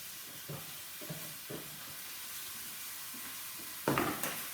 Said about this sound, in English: Now we're going to fry off the vegetables quickly